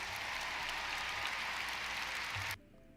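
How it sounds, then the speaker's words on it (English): Audience applause after a speech, steady dense clapping at close range for about two and a half seconds, then cutting off abruptly into near silence. "Clapping."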